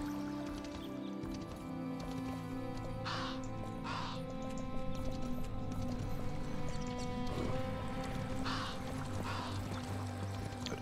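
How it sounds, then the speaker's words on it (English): Horse galloping in the video game Kingdom Two Crowns: Norse Lands, a steady hoof-beat patter running under game music, with crow caws and other ambient effects over it. "This horse is also very fucking fast on normal land."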